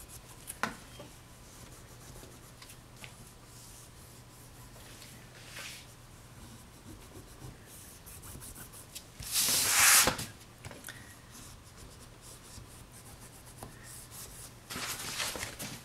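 Paper being rubbed down by hand while assembling a folio with a spine and pockets, a soft dry scuffing that rises in a short burst near the middle and again at the end, alone and close.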